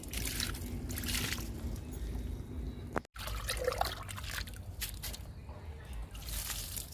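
Liquid trickles and pours onto a potted purple heart plant, a steady watery splashing that breaks off briefly in the middle and resumes, with no talking.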